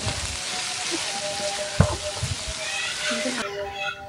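Fried chicken pieces stirred into spice paste in a pan on the stove, a steady bright sizzle with occasional scrape and clunk of the utensil, close and continuous for the whole stretch.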